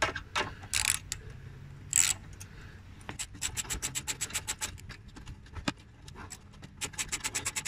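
Loosening the drive belt on a Mountfield lawn mower during a blade-holder repair: scraping and rubbing at first, then a steady run of sharp ratcheting clicks, close and fairly loud, with no talk.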